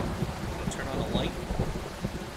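Steady rain and a low thunder rumble fill a dark horror video game scene, a constant wash of falling water with faint scattered higher tones, moderately loud and with no voices.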